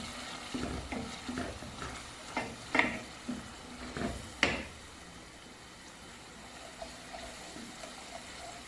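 Masala with salt and yogurt fries in a pan before minced meat goes in, a soft steady sizzle broken by spoon stirring and scraping, several clearer clinks in the first half before it settles into quiet frying.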